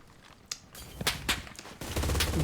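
Gunfire rings out in the WWII shooter Enlisted, set in a Rzhev battle, as several sharp shots and short bursts crack at irregular intervals, some close and others farther off, followed by denser rattling toward the end.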